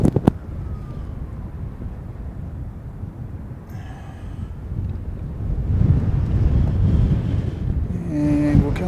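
Gusty wind buffets the microphone at an aircraft-viewing mound on Harewood Road, a rough, rumbling roar that swells louder in the second half, with a few brief faint tones over it.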